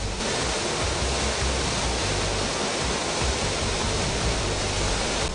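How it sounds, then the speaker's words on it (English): Broketut Waterfalls in Jibam gives off a steady, dense roar of rushing water that stays loud and unbroken throughout, with no voices. "Broketut Waterfalls is one such natural endowment. It is a waterfalls to reckon with, though largely undiscovered."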